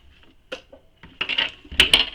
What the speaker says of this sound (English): I'm cutting all my threads now.